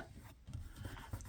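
A finger rubbing tape runner adhesive off a paper page, producing quiet, close, short scrubbing strokes in a brief burst without speech.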